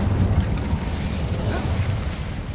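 The Incendio fire spell is cast in Hogwarts Legacy as a dense, roaring burst of flame with a heavy low rumble, held steadily loud for a few seconds without pause.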